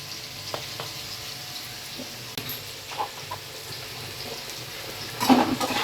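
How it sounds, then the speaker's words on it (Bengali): A spatula stirs cauliflower and vegetables coated in turmeric in a hot pan, giving soft sizzling under scattered scrapes and light knocks, with a louder burst of scraping near the end. "এবার হলুদ দিয়ে এটা নেড়ে দিলাম।"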